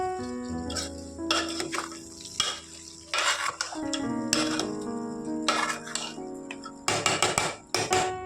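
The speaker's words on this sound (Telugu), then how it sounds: "దోసకాయలు వేసాం కదా మొత్తం తిప్పుకోవాలి" Beef and cucumber curry being stirred in a pot, a spoon scraping and knocking against the metal in repeated bursts over a steady low hum, fairly close, with no talking.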